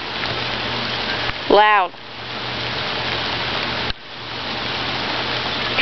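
Rain falls outdoors in a steady, close hiss, pattering on the camera as it gets wet. A person speaks one brief word partway through, and the patter continues unbroken after it.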